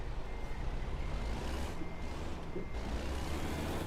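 Truck in American Truck Simulator backs up with a faint repeating reversing beep over a steady low engine rumble and broad road noise, no voices.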